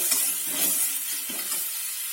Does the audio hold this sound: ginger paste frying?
yes